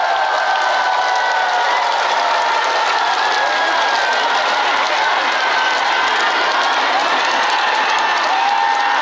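Dense, sustained applause and cheering from a festival crowd at an outdoor trot concert at Sorae Port, Siheung, loud and continuous throughout with no break.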